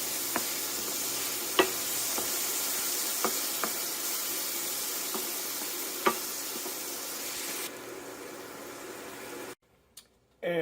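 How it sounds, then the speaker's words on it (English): Vegetables sauté in a pan with a steady hissing sizzle and a few scattered clicks and taps of a utensil, close by; the sizzle drops away near the end, followed by brief near-silence. "Now we're gonna finish sauteing all of our veggies."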